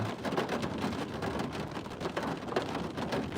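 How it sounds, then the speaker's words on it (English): Rain drums hard on a car during a thunderstorm, heard from inside the vehicle as a dense, steady patter with a low rumble of thunder underneath. "it's lightning, and I'm in my car"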